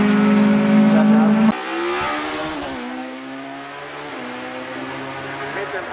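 An Opel Astra race car climbs a hillclimb course in the up-to-2000 cc class, its engine loud and close with a steady high-revving drone and gear changes, with a commentator talking over it.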